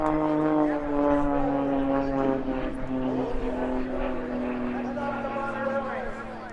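An Extra 330 aerobatic propeller airplane's engine drones loudly with shifting, sweeping pitch as it maneuvers, the tone rising and falling throughout.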